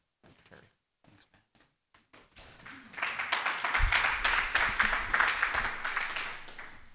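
Audience applause for the first speaker at a cannabis seminar for public officials and staff: a few scattered claps first, then a fuller round of clapping that swells and holds before tapering slightly.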